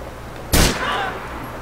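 Single loud gunshot in the video game GTA4, a sharp close crack followed by a short decaying tail over quiet background.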